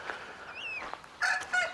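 Broiler chickens on a farm cluck and squawk in short, close calls, a few overlapping bursts in quick succession with no talking.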